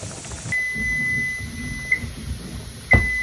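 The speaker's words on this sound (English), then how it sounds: "There goes the timer." Kitchen timer beeping during a pressure canning session of hot-packed potatoes, a sustained electronic tone that starts abruptly and runs steadily for a few seconds with a couple of small clicks.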